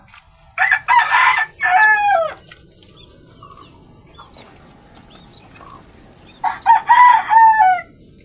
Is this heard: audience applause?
no